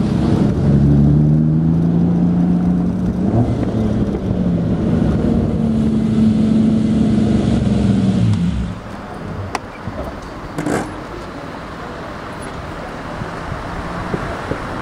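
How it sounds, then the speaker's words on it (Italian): A 1960 Ferrari 250 Cabriolet Pininfarina with a 12-cylinder engine drones loudly, its pitch rising and falling as it pulls along, then fades after about eight seconds to wind and road noise. "con quella sinfonia, con quei 12 cilindri"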